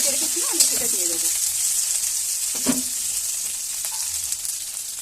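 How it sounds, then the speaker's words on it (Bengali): Cauliflower frying in hot oil in a pan for a cauliflower, potato and fish curry, with a steady close sizzle and a few stirring scrapes, and brief speech at the start. "ফুলকপিগুলো বেশ সুন্দরভাবে ভাজা হয়ে যাচ্ছে"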